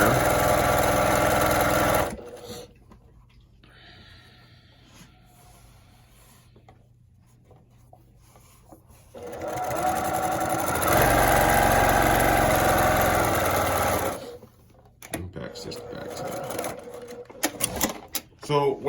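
A sewing machine backstitches a quilt seam in bursts, whirring loudly at the start and again in the middle, with quieter handling and someone talking between the runs.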